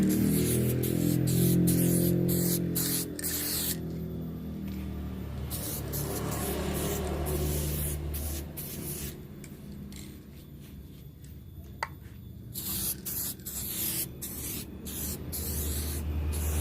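Aerosol spray gun hissing Sapporo Ultimate 1K clear coat onto a motorcycle part in several long, steady bursts broken by short pauses and light clicks, close and continuous.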